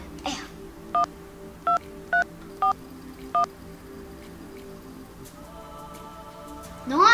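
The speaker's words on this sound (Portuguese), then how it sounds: "Eu tenho que ligar pra Ana Clara agora." A phone is dialed with five short, evenly spaced touch-tone beeps over a quiet indoor hum, followed by a brief rising electronic tone at the end.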